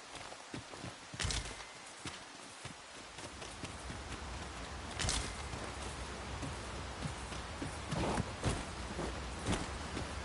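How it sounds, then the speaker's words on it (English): Steady rainfall hisses throughout in a Dragon's Dogma 2 game environment, with occasional sharper thumps and hoof-like footsteps over the wash. "It started raining, Master."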